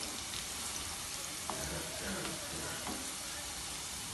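Onions fry in a pan for a restaurant-style daal mash, giving a steady soft sizzle with small clinks of stirring, faint and continuous, with no talking.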